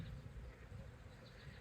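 Honeybees buzzing in a hive while new queens are being introduced, a faint, steady low drone that continues evenly throughout with no talking.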